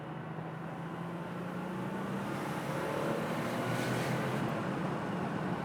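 Classic Porsche 911 Turbo 930 driving, its engine a steady low drone heard from inside, holding even and continuous with a slight swell toward the end, no voices over it.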